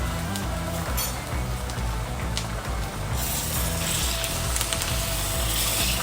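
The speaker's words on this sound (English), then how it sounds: "add my steak now straight to the pan" A steak hits a hot pan for simple pan frying, producing a loud, continuous hiss that fills the whole moment and swells a little brighter partway through.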